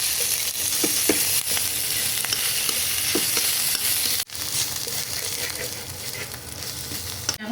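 Chopped ginger and garlic fry in a little white oil in a pan for pizza sauce, a continuous close hiss and crackle with scattered stirring scrapes and a brief dropout midway.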